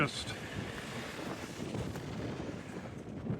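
Wind buffeting a 2025 Chevrolet Blazer EV SS on a highway drive, a steady rumbling roar with low thumping gusts throughout, no voices.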